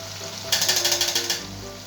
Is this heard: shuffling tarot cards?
no